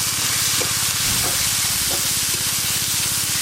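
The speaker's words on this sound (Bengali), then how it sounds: "ওই মাছ ভাজার তেলেই আমি পেঁয়াজ কুচি দিয়ে দেব।" Chopped onions go into hot oil left over from frying fish, giving a loud, continuous close-up sizzle and hiss with faint stirring scrapes.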